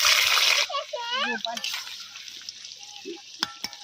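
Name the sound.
potatoes frying in a pan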